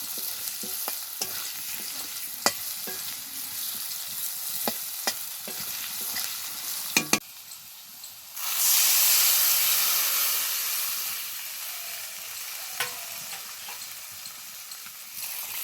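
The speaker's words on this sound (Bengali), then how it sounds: "এবার একটু নেড়ে চেড়ে জল দিয়ে দেবো।" Fish kalia masala with turmeric and salt is stirred in a pan for a Bengali wedding-style dish: scraping clinks and a low sizzle, then a loud hissing surge of steam that slowly fades back to gentle stirring.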